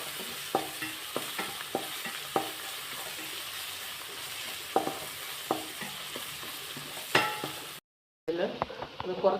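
Curry leaves hit hot oil in a frying pan while a sardine biryani is cooked, giving a steady close-up sizzle with scattered stirring clinks and a short silent gap near the end.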